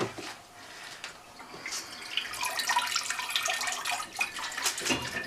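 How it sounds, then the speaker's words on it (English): Dandelion wine liquid being poured through a sieve, a steady trickling and splashing of liquid that builds after the first couple of seconds, close and continuous with no talk. "You don't need to sieve it now, but I think I'm going to."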